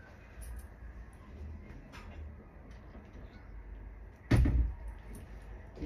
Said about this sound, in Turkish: Niye kapattın kapıyı?